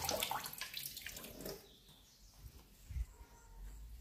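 Water splashes and pours over fresh homemade paneer, curdled from a litre of milk with yogurt, as it is washed; a louder rushing burst at first, then a softer trickle with small splashes near the end.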